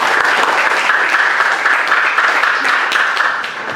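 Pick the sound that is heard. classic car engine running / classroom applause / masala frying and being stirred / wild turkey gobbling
classroom applause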